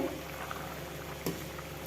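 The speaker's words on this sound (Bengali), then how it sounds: "দেখুন ঝোলটা ফুটে উঠেছে" Tangra fish curry gravy with ridge gourd and potato bubbles in a pan, a soft continuous simmering hiss with faint pops and one brief clatter near the end, fairly quiet and without talk.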